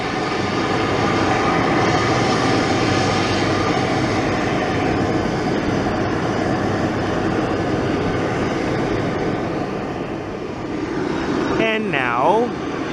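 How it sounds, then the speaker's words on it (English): Private jet taking off at a busy desert southwest airport, a steady broad jet roar filling the whole clip, loud and sustained, with a brief whistle-like chirp near the end. "As a private jet takes off behind me"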